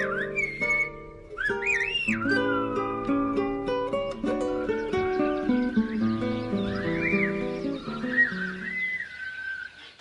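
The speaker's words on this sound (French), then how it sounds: "un paysan a décidé de sauver le silbo et de remettre la langue sifflée au goût du jour dans les écoles" Silbo, the whistled language of La Gomera, is heard as sharp sliding whistles rising and falling in short phrases over a sustained tonal backing, moderately close.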